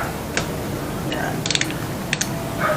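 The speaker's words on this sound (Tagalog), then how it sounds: "Gamit ang 19mm socket wrench." A 19mm socket wrench ratchets against a motorcycle engine sprocket on a Sniper 155 VVA, giving a few short bursts of close, crisp clicking spread across a quiet moment with no talk.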